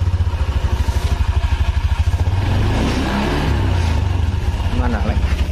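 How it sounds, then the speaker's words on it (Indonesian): A 2021 Honda Scoopy motorcycle engine runs at idle with a loud, close, steady rapid pulsing putter. Its revs rise briefly midway, and talk is heard over it. "Ini motor Honda Scoopy"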